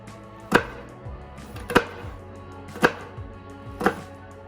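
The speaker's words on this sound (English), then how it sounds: "So now I'm going to chop my onion" A knife chops an onion on a board in four sharp, evenly spaced strokes about a second apart, each a crisp thud against quiet background, with no voices.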